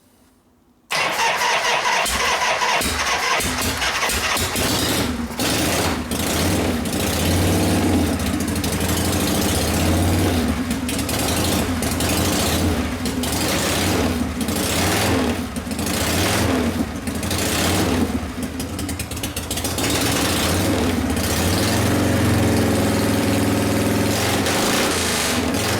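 Engine of a 1973 Harley-Davidson Shovelhead 74ci bobber catching after a brief pause, then running loud and close with an uneven, lumpy idle and a few small throttle blips.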